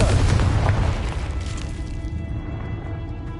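Confringo blasting spell cast in Hogwarts Legacy: a loud, deep boom at once, then a rumbling blast that fades slowly into a lower lingering roar.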